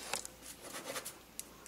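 A gel pen writes on paper in a few quiet, close scratchy strokes with short pauses between them, faint and alone.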